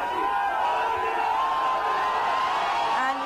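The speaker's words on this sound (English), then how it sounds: "here we have the crowd there going berserk" Crowd at Mandi House metro station in Delhi cheering and shouting in welcome, a steady roar of many voices with whoops throughout.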